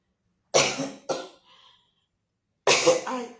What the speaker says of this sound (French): la toux l'a recommencé